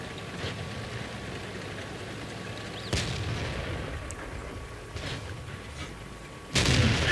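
A tank cannon fires in the video game World of Tanks, with one heavy boom midway and another loud blast at the very end over a steady rumbling background, with no talking.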